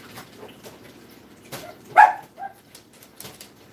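Dogs gathered around a person indoors give a short, sharp bark, with a few fainter yips and whimpers around it against a quiet room.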